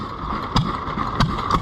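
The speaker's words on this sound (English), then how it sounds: "That's a throttle governed engine, so it hits every time." A Canadian Fairbanks throttle-governed stationary engine runs at a fair, firing with distinct periodic bangs roughly every 0.6 seconds over a steady mechanical drone, fairly close and alone.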